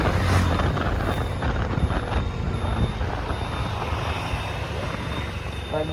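Steady drone of a TVS Callisto 125 scooter engine working hard uphill on a night ride, loud and continuous with wind rush throughout.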